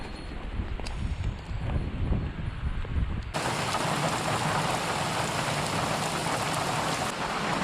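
Heavy rain pouring down in buckets in Hokkaido, Japan, a dense steady roar of drops on a roof, lighter and patchier at first, then abruptly louder and continuous for the rest.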